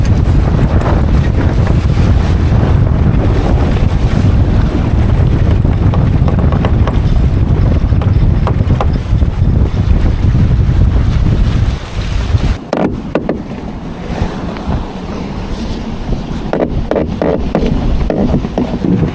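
Strong wind roars across the microphone aboard a sailboat before a race start, a loud continuous buffeting rush with water noise beneath that eases somewhat toward the end, leaving gustier bursts and occasional knocks.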